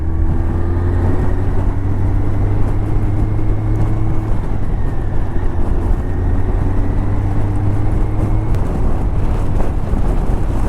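A 1984 Honda CB700 Nighthawk S with 70,000 miles is ridden steadily in third gear at about 15 mph, a continuous low engine drone with slowly shifting pitch, mixed with steady wind rush, and no one talking.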